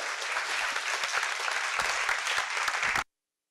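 An audience claps warmly to welcome Dr. Michael Roizen at an author event. The applause is steady and dense for about three seconds, then cuts off abruptly into silence.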